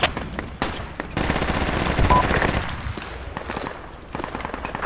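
Automatic weapon fire in the military shooter game Project Reality: a long rapid burst of machine-gun rounds in the middle, framed by scattered single shots and footsteps, loud and close.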